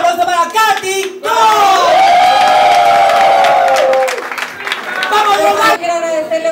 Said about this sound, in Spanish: Un fuerte aplauso para Katy.